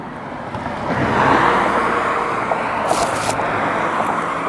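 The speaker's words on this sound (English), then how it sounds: "There is some traffic on this highway." Highway traffic passing while riding an e-bike, a steady close road roar with wind noise and a swell of a vehicle going by, plus a brief hissing burst partway through.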